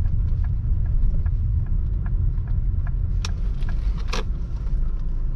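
Interior rumble of a Ford Mondeo Mk4 Ghia+ estate with a 2.3 engine, rolling slowly as it pulls in to park, with steady low engine drone and a few light mechanical clicks and knocks toward the end.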